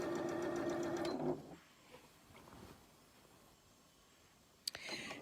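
A sewing machine stitches the side seams of a cotton pillowcase in a steady whir for just over a second before stopping, leaving a quiet room with faint handling noises and a small click near the end.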